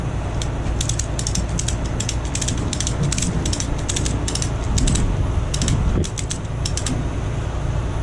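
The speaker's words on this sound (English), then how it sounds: "Yeah, these ratchets suck." A ratchet strap is cranked while securing a silo for hauling, giving rapid rattling clicks in bursts over a steady outdoor rumble, with a short pause near the end.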